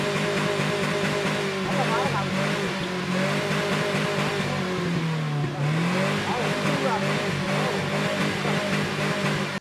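A car engine idles and revs after HHO engine cleaning, a steady running hum that rises and dips once in pitch, with someone talking over it throughout.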